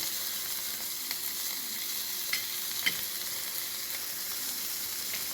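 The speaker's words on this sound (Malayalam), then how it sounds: "ഇനി നമുക്ക് അതിലേക്ക് ഇടേണ്ടത് നമ്മുടെ മെയിൻ സാധനമായിട്ടുള്ള ബീട്രൂട്ടാണ്" Grated or chopped beetroot sizzling and frying in a pan with a sautéed onion mixture for a Kerala-style beetroot stir-fry, a steady broadband crackle with a few light stirring clicks, fairly close and without voices.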